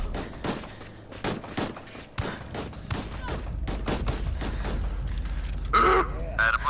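Rapid bursts of pistol gunshots in a first-person shooter game, a quick irregular string of sharp, loud cracks over several seconds, with a brief pause and a later electronic game sound.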